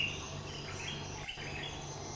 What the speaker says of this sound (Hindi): चिड़ियों की चहचहाहट,